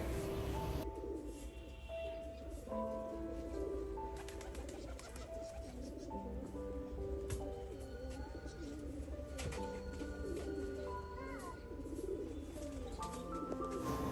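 Pet pigeons on a sunny winter morning coo steadily in a soft, overlapping chorus, with faint chirps and occasional wing flutters over a low background hum; no one speaks.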